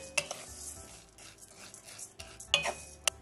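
Rice for puffed rice (muri) being stirred in a dry pan over a low flame, without sand or oil, with soft continuous scraping and a few sharp utensil clinks against the pan.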